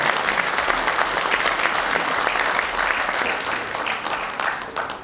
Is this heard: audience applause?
yes